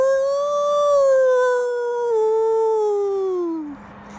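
A person imitates a wolf howl with the voice, holding one long sustained wail for close to four seconds as the pitch slowly slides downward before it breaks off, close and loud, with no other sound around it.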